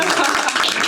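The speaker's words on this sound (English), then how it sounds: "Please give a round of applause for her." A brief burst of audience applause at an evening climate-careers panel event, dense clapping from a crowd, fairly loud and continuous for under a second, with no talk over it.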